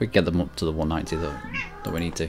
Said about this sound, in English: Also, apologies for my cat